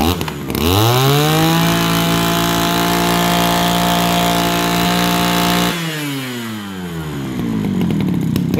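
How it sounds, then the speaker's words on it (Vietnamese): A small Echo 343 engine roars with rising revs, holds a steady high whine, then drops briefly and revs up again, loud and close. "mọi người nghe tiếng máy chưa?"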